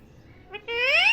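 A talking parrot gives a short vocalization: a brief squawk, then a clear rising whistle-like call that grows louder, heard close and alone.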